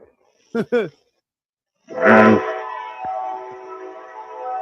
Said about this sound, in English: CSX, you can quit honking the horn